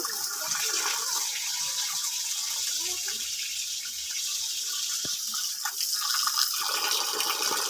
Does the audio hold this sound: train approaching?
no